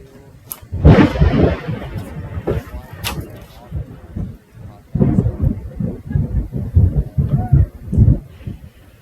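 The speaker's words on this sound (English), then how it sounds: "That is thunder." Thunder from a storm rolls in heavy, broad rumbles, with a loud crack early on and a second long wave of rumbling later, close and powerful throughout.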